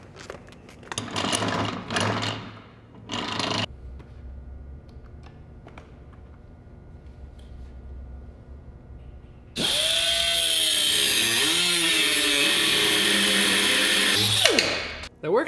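A grinder in grind mode works metal with a loud, steady high whine from about ten seconds on, after earlier bursts of tool noise and quiet gaps.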